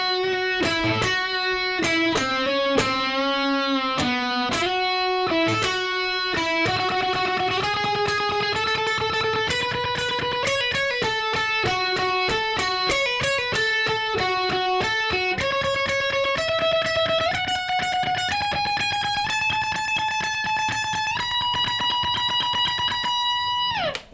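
Guitar solo from a song, a loud distorted electric lead of sustained bent and sliding notes climbing steadily in pitch, with rapid picked passages early on, played alone without talk.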